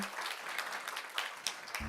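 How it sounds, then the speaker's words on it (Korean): Forum attendees give a short burst of quiet, distant applause that fills the room evenly for under two seconds. "여러분 다시 한번 따뜻한 박수 보내주시죠"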